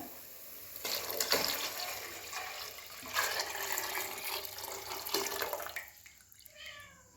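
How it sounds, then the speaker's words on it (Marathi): Leftover chicken stock is poured into a pot in a few splashing bursts, gurgling and trickling, then stops. "आता आपण हे चिकनचं पाणी उरलेलं होतं ते ओतोय"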